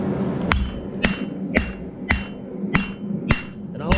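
A hammer pounds a piece of 5160 steel flat to form a punch, seven or eight sharp ringing blows at an even half-second rhythm, loud and close with no talk.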